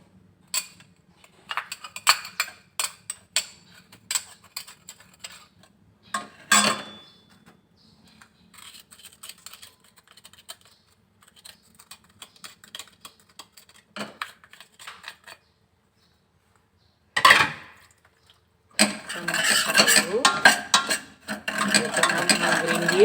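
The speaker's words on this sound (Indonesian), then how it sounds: "Jangan menggerindil, kita aduk dulu." A spoon stirs and scrapes through grass jelly pudding mixture with coffee in a pot, giving sparse, irregular clinks and taps with quiet gaps, followed by a louder burst of rough scraping near the end.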